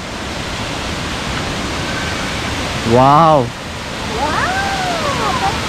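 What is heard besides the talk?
Buttermilk Falls waterfall, Chikmagalur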